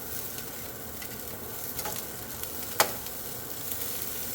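Old hash browns from 1978 frying in grease and butter in a pan, a steady close sizzle with a few sharper pops and crackles, no talking.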